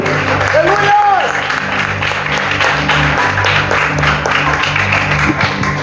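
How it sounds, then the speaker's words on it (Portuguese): Congregation clapping at a Pentecostal church service, a broad crowd wash of claps over music and a continuous voice, steady and moderately loud throughout. "Dê uma salva de palmas ao Senhor"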